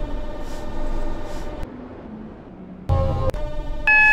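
In the Roblox game Stepford County Railway, a train pulls into a station with a steady rolling rumble, then clunks and a rising electronic tone as it stops, heard up close.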